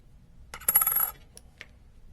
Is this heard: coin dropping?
yes